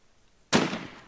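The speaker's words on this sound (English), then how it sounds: "That was me shooting." A single sharp gunshot from the game Infestation: Survivor Stories, fired by a player, cracks loudly after a quiet stretch and rings out with a brief decaying tail.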